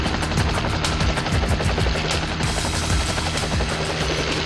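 A police helicopter spins up for takeoff on a training exercise, its rotor giving a loud, steady, rapid chop that fills the whole stretch over a dense engine roar, close and continuous with no voices.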